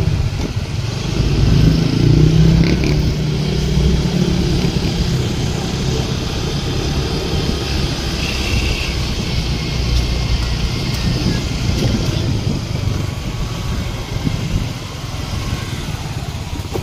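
A motorcycle riding through a town street toward a market, its engine a loud, continuous drone mixed with road and wind rumble that holds steady throughout.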